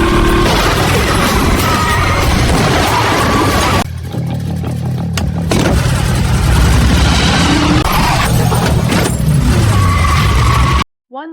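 A battered Mustang's engine fires up and roars during a film car chase, loud and close, with mechanical clatter, revving surges and a brief quieter stretch midway before the noise resumes and cuts off abruptly.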